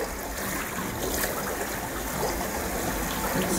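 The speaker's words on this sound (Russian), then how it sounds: "Ой, течение такое, что он вода бурлит аж." A counter-current jet in an indoor resort swimming pool at Golf Resort Kaskáda, churning the water with a dense, steady rushing and bubbling hiss, loud and close throughout.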